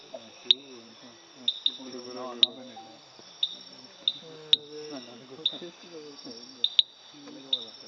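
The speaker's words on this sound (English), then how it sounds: "Typewriter bush frog." Typewriter bush frog calling with a series of sharp, clicking notes repeated at irregular intervals, distinct against a background of low murmuring voices.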